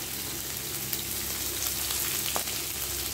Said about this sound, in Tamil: போட்டுட்டு நல்லா வதக்கி விட்டுக்கலாம்